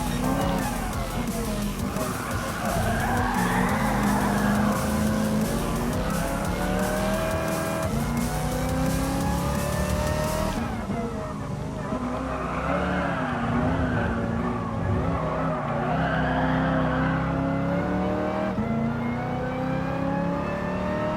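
A Dodge Challenger races in Gran Turismo Sport, its engine droning and rising through repeated revving climbs and gear shifts, with steady loud game audio throughout.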